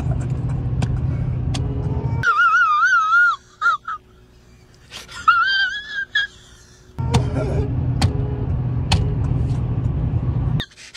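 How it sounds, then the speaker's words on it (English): A car cruising down a highway through the West Texas desert, its steady low road rumble filling most of the stretch, dropping away briefly midway while warbling whistle-like tones appear, then returning close and continuous. "me and Paula were just cruising down the highway headed to a race right now"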